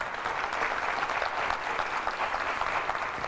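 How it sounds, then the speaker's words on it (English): Town hall audience clapping, a dense burst of applause held at a steady level for a few seconds, with no speech over it. "I wasn't sure I was going to get many claps tonight"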